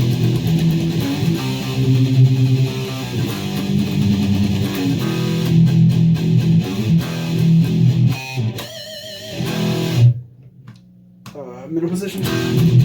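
1991 Squier Strat electric guitar played through heavy distortion, a loud, thick, saturated riff of chords close up, breaking into choppy bursts and a short gap near the end.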